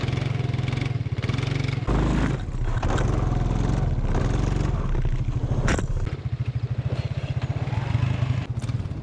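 An Arctic Cat 300 4x4 ATV engine runs close by with a steady low throbbing idle that rises briefly with more revs, continuous throughout with no talking.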